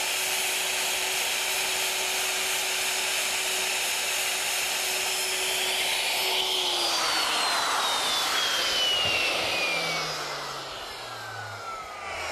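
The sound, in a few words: handheld router with carbide bit routing through mortises in wooden legs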